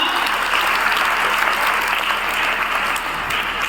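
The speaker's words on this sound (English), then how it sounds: "Why don't we clap?" Students clap together at a Chandrayaan-3 celebration screening, loud continuous applause filling the room with no speech over it.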